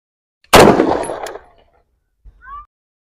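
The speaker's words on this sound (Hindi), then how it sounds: "अब हम लोग इसको फायर करके देखते हैं।" A gun fired at a padlock gives one loud, sharp close blast that rings out for about a second, followed by a faint metallic clink.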